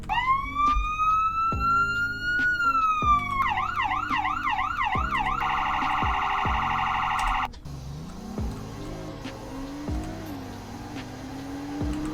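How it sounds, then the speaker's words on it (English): A police car siren in a video game cycles through several electronic patterns, a steady wail, fast yelp, then high rapid warble, followed by lower engine-like hum; loud and close, no talking. "There's sirens."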